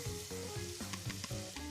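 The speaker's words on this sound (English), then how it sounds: "So I'm sweating my onions in my guanciale fat" Onions sweating in rendered guanciale fat for a pasta sauce, giving a steady close sizzle with soft stirring scrapes over a short stretch, no voices.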